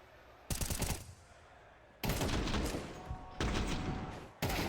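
Rapid automatic rifle fire in Counter-Strike during a professional match, several loud broadband bursts separated by short pauses, with no talk.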